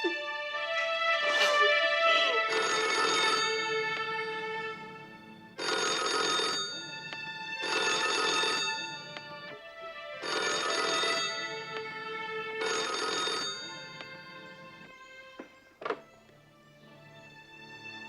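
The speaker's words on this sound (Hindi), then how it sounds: "इतनी देर तक फोन नहीं उठाया?" Telephone bell ringing in loud repeated bursts of about two seconds with short pauses between them, followed by a brief clunk as the receiver is picked up.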